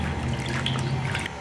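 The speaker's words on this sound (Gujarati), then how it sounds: "પાણીમાં બોળી અને એકદમ પલાળી અને સાફ કરી અને ધોઈ નાખીએ" Water sloshes and trickles as pieces of giloy stem are soaked and rinsed in a bowl, a brief close splashing and dribbling with no talk.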